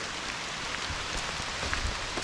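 Rain falls steadily on a cool day during a hike along a flooded creek, a dense close patter of drops with scattered sharper hits.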